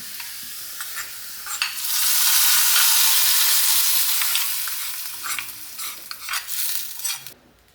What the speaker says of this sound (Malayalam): ഇനിയിപ്പോൾ വെളിച്ചെണ്ണയിൽ ചെറിയ ഉള്ളി വഴറ്റിയിടണം